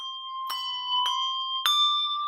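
Handbells ring three times in succession, each clear metallic strike leaving a sustained, pure ringing tone that overlaps the next, close and fairly loud with no voices.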